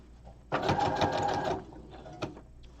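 A sewing machine stitches dress fabric for an 18-inch doll in a steady one-second burst, close and loud, then stops, followed by a faint click.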